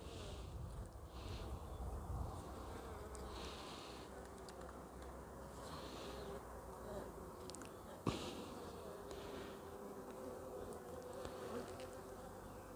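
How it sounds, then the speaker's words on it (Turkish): A dense, steady buzz of many honeybees around a hive fills the space, close and constant, with one brief sharp knock partway through. "Arımız oldukça uysal bir arı."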